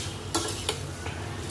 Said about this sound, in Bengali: তো এই আলু সয়াবিনের তরকারি করছি,